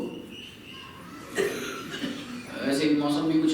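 A person coughs once in a short burst. Indoor talk continues around the cough, and a voice speaks over it near the end.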